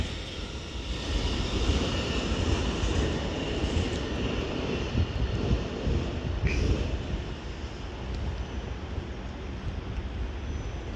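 Double-unit train 800-033 accelerates out of Reading station on the Great Western Main Line with a continuous loud low rumble and broadband roar, a faint high squeal appearing briefly midway.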